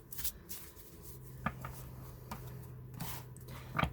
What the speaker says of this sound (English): Once you feel you're ready to stop shuffling, you can pull the cards on top and lay them down.